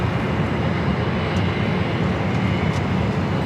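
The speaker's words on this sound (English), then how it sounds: "Next arrival is JetBlue Flight 2223 coming in from JFK and A321" Loud, steady broadband roar of a JetBlue Airbus A321 airliner arriving at Los Angeles LAX from JFK, continuous and close with no talk over it.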